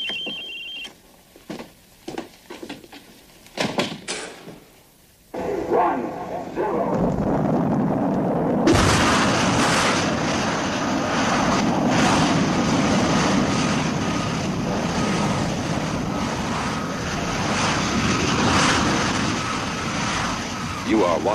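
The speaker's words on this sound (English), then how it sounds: "You are watching the last liftoff" A rocket liftoff in a television drama scene: after a few seconds of quieter sounds, a loud, dense, continuous roar bursts in and holds steady to the end, with no one speaking.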